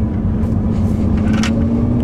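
A Lamborghini fitted with a gated six-speed manual transmission, on 305R tires, drones loudly and steadily from inside the car during a short test drive.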